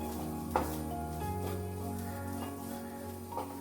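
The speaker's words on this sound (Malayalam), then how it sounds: "ഒരു 3 ചെറിയ പച്ചമുളകും കുറച്ച് കറിവേപ്പിലയും കൂടി ഇതിലേക്ക് ഇട്ടു കൊടുക്കും" Green chilies and curry leaves frying in a pan of browning onion for chana masala over medium flame, giving a quiet steady sizzle broken by a few soft stirring knocks.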